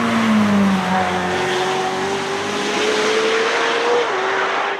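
McLaren Senna with a 4-liter twin-turbo V8 racing in a Forza video game, a loud, steady, close engine roar with rising pitch as it accelerates and a hint of tire squeal.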